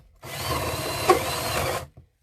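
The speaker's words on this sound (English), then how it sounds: "I'm just going to start drilling it" Power drill boring into a clay extruder die, a steady whirring drone for about a second and a half with a brief louder bite midway, then stopping abruptly.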